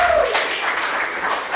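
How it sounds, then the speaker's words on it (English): Brief burst of audience applause for veterans at a speaking event, a dense crowd clapping close by that carries on evenly for a moment. "Let's give a round of applause to the veterans."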